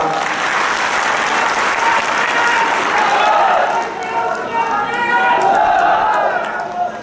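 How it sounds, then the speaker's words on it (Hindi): Loud, sustained applause from an audience at a Banjara community event, a dense unbroken wash of clapping with some voices rising within the crowd noise. "मेरी तरफ से, आप सबकी तरफ से बहुत जोरदार तालियां"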